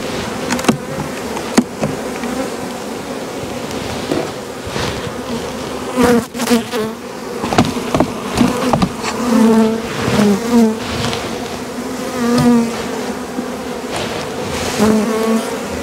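Honey bees buzz steadily throughout a hive inspection while brood and honey frames are checked for the queen, a dense close insect drone with knocks and handling bumps over the top.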